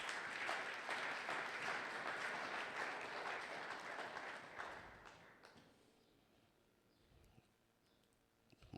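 A church congregation at a Sunday thanksgiving and praise service claps loudly for about five seconds. The applause then fades into quiet room tone, with a few scattered sounds near the end.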